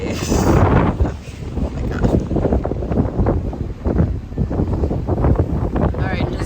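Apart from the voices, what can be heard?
strong wind on a cruise ship deck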